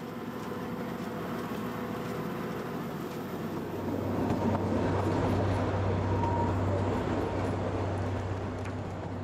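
The Kalka-Shimla toy train running on the curving mountain railway toward a long bridge, a continuous rolling rumble of wheels and carriages that swells louder partway through, with no voices.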